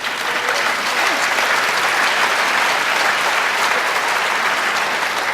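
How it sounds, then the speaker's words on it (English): An audience gives steady, dense applause that keeps up evenly for several seconds at a public meeting on health policy, loud and close with no pauses. "I thank you for the applause"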